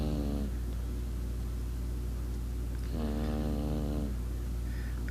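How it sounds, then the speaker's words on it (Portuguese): A little girl snores in her sleep, two drawn-out, rasping breaths with a quiet stretch between them, heard close over a steady low background hum. "A bacurinha de pai roncando."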